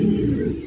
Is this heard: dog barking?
no